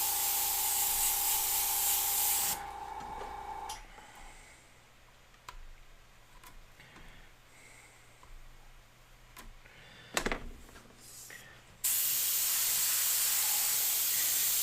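Close airbrush hiss spraying paint on a skull flag, a steady airy spray in bursts with clicks and brief pauses between passes, no talk.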